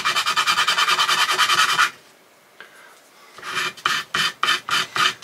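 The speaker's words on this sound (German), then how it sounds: "Dazu nehme ich Schleifpapier und schleife hier so ein bisschen" Rapid, rhythmic rasping of sandpaper rounding off wooden edges, a fast run of strokes, a brief pause, then slower separate back-and-forth strokes, close and clear.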